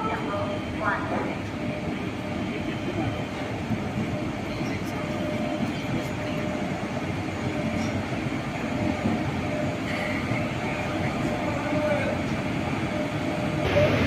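An Amrit Bharat Express push-pull train at a station platform, a steady rumbling rail sound with faint clickety-clack and occasional wheel squeal, continuous throughout with quiet background voices.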